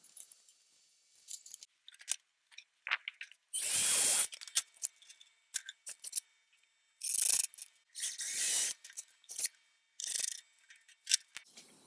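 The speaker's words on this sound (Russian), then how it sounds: "Скручиваю формы на саморезы." Power screwdriver driving self-tapping screws into a centimetre-thick chipboard mould, heard as several short whirring bursts scattered among clicks and small handling noises, close up with no talk.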